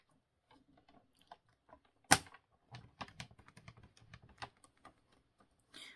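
Paper card being folded and creased for a pop-up card, with one sharp crackling snap followed by a run of quiet taps and rustles as the folds are pressed down, close and faint.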